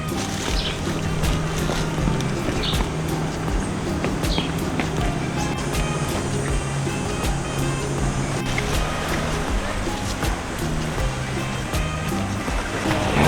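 Ocean waves wash continuously onto a small beach near Puerto Vallarta, a steady broadband surf roar with faint footsteps and a few clicks, no clear talk.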